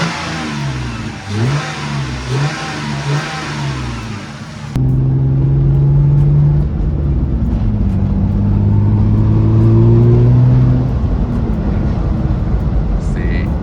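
A Lexus IS300 fitted with an HPS intake hose drones with engine and intake noise from inside the car, rising and falling in pitch as it accelerates, preceded by a rougher, noisier stretch at the start.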